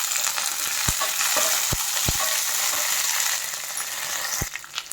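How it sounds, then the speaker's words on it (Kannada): Curry leaves fry in hot oil for a Kerala-style mushroom curry, giving a dense, continuous sizzle close up with a few sharp pops and spoon scrapes scattered through it. "ಇದು ಒಂದು 2 ನಿಮಿಷ ಫ್ರೈ ಆಗಬೇಕು. ಇದಕ್ಕೆ ಒಂದು ಸ್ವಲ್ಪ ಒಂದು ಇಡಿಯಷ್ಟು ಒಂದು ಸ್ವಲ್ಪ ಇದು ಕರಿಬೇವು ಸೊಪ್ಪು ಹಾಕ್ಕೊಳ್ಳಿ."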